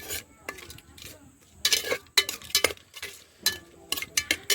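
A spoon stirs a tomato rice tempering in a pressure cooker: intermittent metallic scrapes and clinks against the pot, in uneven bursts with quiet gaps between them.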